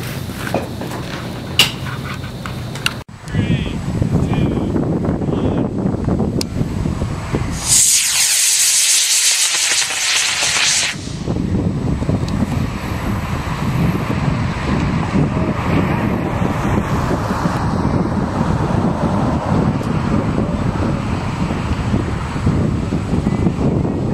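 Strong wind buffets a microphone outdoors beside a rocket readied for launch, a loud continuous roaring hiss that briefly gives way to a sharper high spray-like rush before the steady gusting returns.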